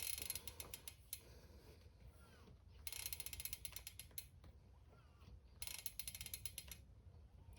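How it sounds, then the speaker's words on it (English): An Industry Nine rear hub on an Atherton 130 mountain bike ratchets backward in quick bursts of dense, rapid clicking, three close runs separated by short pauses. "You hear the I9 hub ratcheting back."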